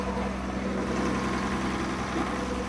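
A cargo ship's engine drones steadily below deck, a loud, even low rumble with a constant hum and no talking.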